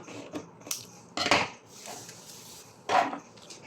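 Fabric for a circular maxi dress is cut along a marked line, with a few sharp, close scissor snips and crunches separated by short pauses.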